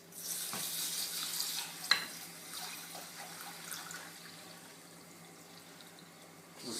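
Rice being rinsed in a bowl of water at a kitchen sink, a soft continuous watery wash with a brief splash near the start, fading quieter toward the end.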